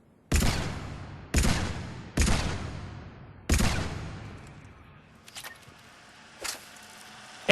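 Paladin pistol from Mass Effect 3 fired at long range: four loud, sharp shots spaced about a second apart, each with a long ringing decay, followed by faint scattered clatter.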